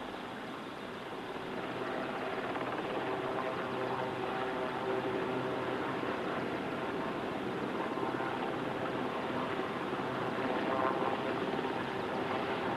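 A rescue helicopter hovers low over the sea in darkness, its rotor and engine making a steady, dense broadband roar that stays loud and continuous throughout, with no voices.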